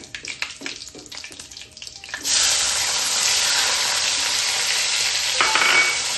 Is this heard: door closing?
no